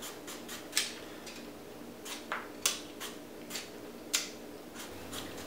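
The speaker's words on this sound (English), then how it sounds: "So first we can peel our mango." A mango being peeled by hand, with a series of short, crisp scraping strokes at an uneven pace, close and fairly quiet.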